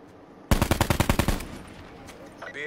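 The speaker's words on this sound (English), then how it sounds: "I'm shooting from over here, trying to distract them." A rapid automatic burst of roughly ten close, loud shots in Call of Duty Black Ops 4 Blackout, followed by a quieter tail of game ambience and a brief later effect.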